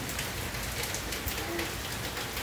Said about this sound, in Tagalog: Sa wakas umulan din. Naranasan natin ang ulan.